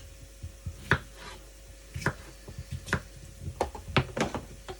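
Irregular knocks and thuds as hard potato chunks tumble into a plastic Thermomix bowl, several sharp impacts spread over a few seconds with a faint background hum.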